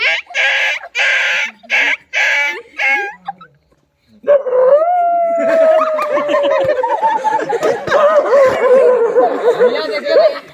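A man imitates a dog howling with a long, wavering, rising and falling vocal tone that carries on loudly for several seconds, following a stretch of choppy speech and a brief pause.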